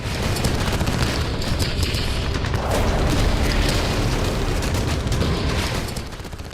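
Loud, continuous rumbling blasts and crackling bursts from an exploding ammunition depot hit by a missile in Odesa overlap in a dense barrage that fades slightly at the end.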